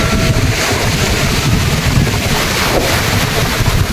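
Strong sea waves crash against the shore in a continuous, loud roar of surf, heavily mixed with wind buffeting the microphone, with no voices.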